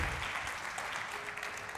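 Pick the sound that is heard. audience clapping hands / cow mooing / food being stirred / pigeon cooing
audience clapping hands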